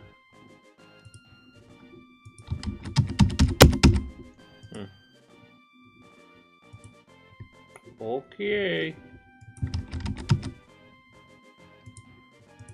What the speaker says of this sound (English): Well, my keyboard's working.